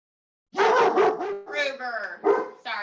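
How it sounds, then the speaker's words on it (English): A dog barks repeatedly indoors during a home boxing and chair exercise class, a run of close, loud, rough barks with no talk in between. "that's my dog. He thinks somebody's here."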